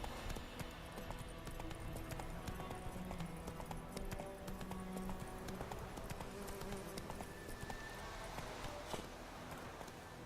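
Roach, a horse in The Witcher 2, gallops with steady clip-clopping hooves that run continuously under busy game background sound and music.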